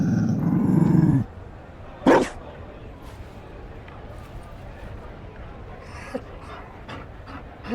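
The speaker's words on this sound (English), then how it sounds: "You found a dog." Mabari war dog from Dragon Age Inquisition, heard as a loud burst of panting and low growl at the start, then a sharp yip-like bark, with game voices talking over faint ambience.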